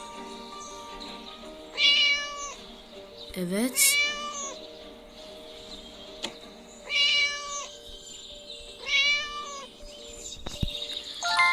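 A cat in the video game Scary Teacher meows repeatedly in drawn-out, rising cries, about five times at irregular intervals, with a person talking briefly in Turkish between them.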